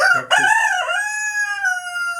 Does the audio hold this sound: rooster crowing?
yes